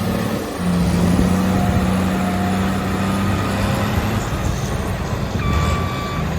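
A heavy diesel engine of a CAT 140H motor grader spreading crushed rock drones steadily and loudly at close range, with a low rumble and a brief high-pitched tone near the end.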